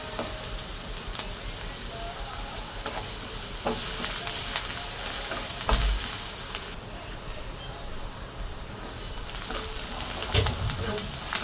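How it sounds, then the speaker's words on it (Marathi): Onion frying in a pan for a toor dal and potato dish, a steady close sizzle that runs throughout with occasional stirring scrapes and faint speech in the background. "मी कांदा चांगला परतून घेणार आहे बघा चांगला छान असा"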